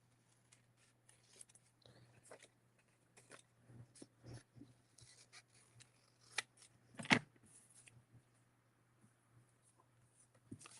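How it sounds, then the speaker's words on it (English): Scissors snip through paper while a junk journal folio is being made, producing faint, scattered cuts up close, with one louder snip near the end and no talking. "I think I can just cut it with my scissors."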